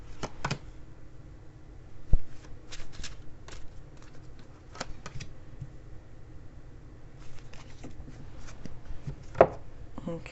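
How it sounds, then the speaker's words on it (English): Lenormand cards being shuffled and pulled from a deck, soft papery flicks and rustles in scattered bursts, quiet and close, with a couple of light taps. "I'm going to pull a couple of Lenormand cards here."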